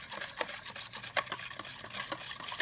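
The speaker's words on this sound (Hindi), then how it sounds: "इसको अच्छे तरीके से मिक्स कर लेना है।" Yogurt mixed in a bowl, quiet rhythmic stirring with soft clinks of a spoon against the bowl, close and faint.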